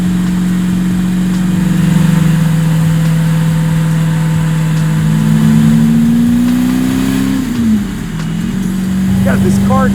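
A small slot car motor whines and revs steadily, pitch rising then dipping as it changes speed, with a brief drop near the end.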